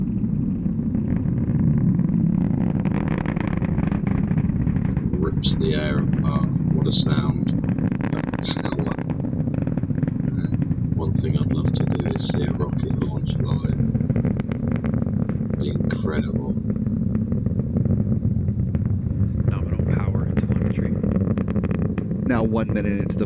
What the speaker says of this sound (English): Let's listen to the roar of those 9 Merlin engines, now 30 seconds into flight.